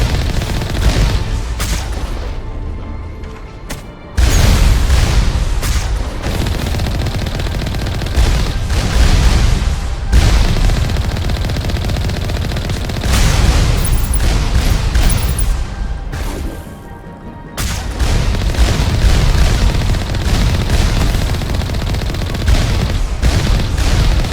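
Loud, almost continuous gunfire and booming explosions from Mass Effect combat on the way to Noveria, thudding and crackling densely with brief lulls before the barrage resumes.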